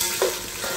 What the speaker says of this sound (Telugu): స్టార్ట్ అయినాయి వేగడం, సౌండ్స్